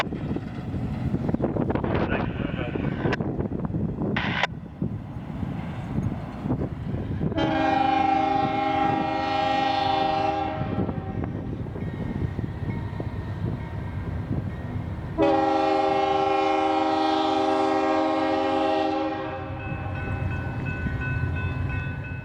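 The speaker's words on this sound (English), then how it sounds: "Today, train 20N has a UP engine leading, number 6238, a C44 ACM locomotive." A freight train led by a Union Pacific C44 ACM locomotive rumbles past in Bellevue, Ohio, with wind buffeting the mic, and two long, loud horn blasts sound, separated by a stretch of heavy rolling noise.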